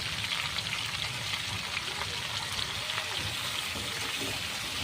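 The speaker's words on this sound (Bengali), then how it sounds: "ফুলকপি আলুগুলো আলাদাভাবে ভেজে নিলে ভালো হবে" Cauliflower florets and potatoes with salt and turmeric fry in a pan, giving a continuous, even sizzle and crackle at moderate volume, close by and unbroken.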